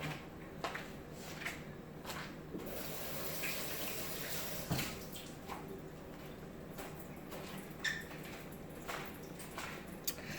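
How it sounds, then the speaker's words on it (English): Running tap water splashes over hands at a kitchen sink while cooking Jamaican stew peas, a steady moderate wash with intermittent louder splashes and rubbing. "Now I'm gonna wash my hands and get ready to make those spinners to add in."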